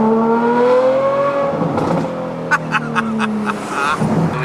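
A Ferrari engine revs up and falls back in a close, loud rising-and-falling howl, followed by sharp mechanical clicks and a fading idle, with faint talk in the background.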